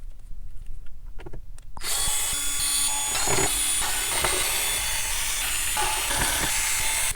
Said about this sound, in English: let me bring a screwdriver